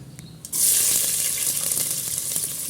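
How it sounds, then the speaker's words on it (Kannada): Mustard seeds hit hot oil in a pressure cooker, bursting into a sudden loud, steady sizzle and hiss after a brief quiet start, then crackling on close by without any talk. "ಒಂದು ಕುಕ್ಕರಲ್ಲಿ ಎಣ್ಣೆ ಹಾಕ್ಕೊಂಡು ಸಾಸಿವೆ ಹಾಕ್ಕೊಂಡಿದ್ದೀನಿ"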